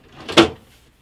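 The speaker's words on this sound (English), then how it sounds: "Putting the drawer in." A wooden drawer slides into a VidaXL carpentry workbench during assembly, one short close scrape ending in a soft knock, alone without speech.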